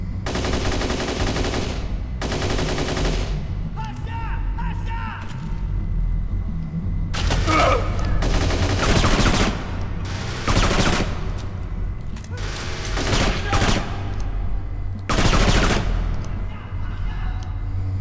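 Gunfire in the video game Kane and Lynch 2: Dog Days, with repeated loud bursts of automatic fire and shots over a steady low rumble of game ambience.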